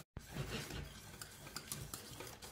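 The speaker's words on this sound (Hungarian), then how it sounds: "Ilyenkor már fontos, amikor elkezd sűrűsödni, hogy folyamatosan keverjük, nehogy leégjen az edénybe." A spoon stirs thickening cream in a pot on a hob, with steady scraping and light clinks against the pot, close and fairly loud, and no voices.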